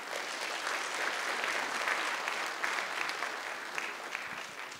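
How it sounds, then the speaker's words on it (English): Warm audience applause for a young pianist at a Lunar New Year celebration at the Nixon Library, dense steady clapping from a hall crowd, sustained and even for the whole stretch with a slight taper at the end. "So let's give them another round of applause."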